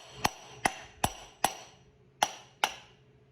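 Six sharp metallic taps land on an M8 bolt on a mini bike, spaced roughly half a second apart with a brief gap before the last two, each ringing off quickly, close and clear with no voices.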